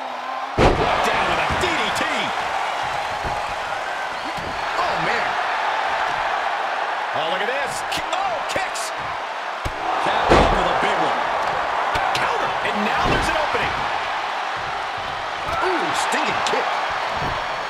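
In a WWE 2K wrestling video game, a wrestler slams an opponent face-down onto the mat. Sharp, heavy thuds hit at intervals over a lively crowd, while excited commentators talk throughout.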